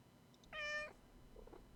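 A single clear cat meow near a staircase, loud and drawn out for about half a second, followed by a faint quieter sound; no speech.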